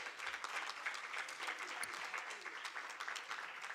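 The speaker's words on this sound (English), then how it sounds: "Can we please give her a round of applause?" Steady applause from an event audience for a panelist at a student entrepreneurship week, fairly faint and distant, holding even throughout.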